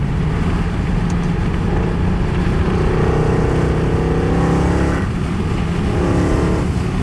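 A tuned, naturally aspirated 6.2-litre V8 in a Mercedes C63 AMG drones loudly and steadily while driving, with a slight rise in revs partway through and no talking.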